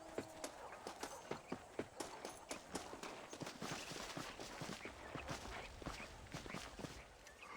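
Horse hooves clip-clopping in a steady rhythm as a rider travels in Red Dead Redemption, the beats fairly quiet and evenly spaced throughout.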